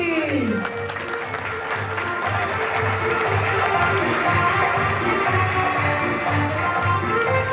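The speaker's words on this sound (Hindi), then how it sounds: "तो बजाइए ताली।" Audience applause at an ISKCON Hare Krishna temple drama during a festival, a steady wash of many hands clapping in a rhythmic, even pulse that continues throughout, with crowd murmur underneath.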